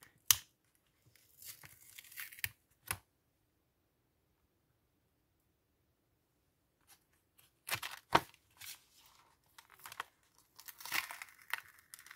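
Firmly glued paper peeled and torn from a junk journal page in short bursts of crackling, tearing rustle, close and dry, with a long silent pause between two clusters of activity.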